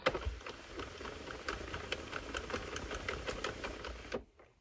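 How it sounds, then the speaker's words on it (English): A circular knitting machine clatters in a fast, steady mechanical rhythm while knitting rows of yarn for fishnet socks, running close and continuous for about four seconds before stopping abruptly. "then we will knit a few rows"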